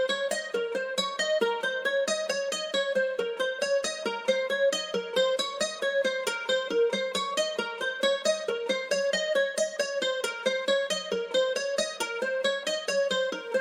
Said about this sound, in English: it switches to this more kind of like hype, bouncy melody